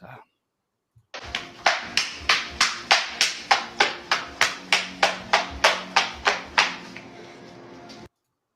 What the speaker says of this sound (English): Somebody is just given a round of applause.